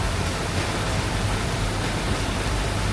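Steady headwind roars across a sailboat motoring off Borneo, a loud, unbroken broadband rush with no let-up and no voices.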